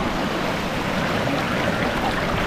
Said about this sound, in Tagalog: Waterfalls na maliit.